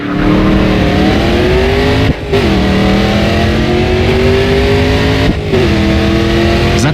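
A race car engine in the GRID 2 racing game revs loud and steady, pitch climbing through repeated gear shifts with two brief dips where the throttle lifts, and no voices over it.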